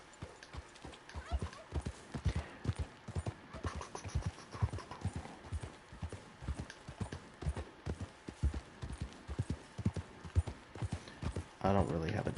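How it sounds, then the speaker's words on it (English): Horse hooves clip-clop in a steady, even walking rhythm in Red Dead Redemption 2, moderately loud and continuous, with a brief louder rustle near the end. "That's a horse right there."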